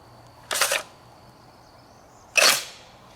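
A round being chambered in a Barrett .50 cal rifle: two sharp, close metallic clacks about two seconds apart, each brief and bright, with near silence between.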